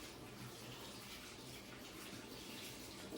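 Hot water running from a kitchen tap, a steady, even hiss and splash with no break, fairly faint and heard alone without talk.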